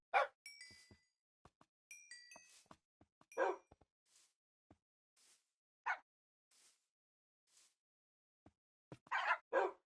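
Tamed Minecraft dogs let out short, sharp barks and yips, scattered irregularly across the stretch with quiet gaps between, some in quick clusters, fairly faint overall.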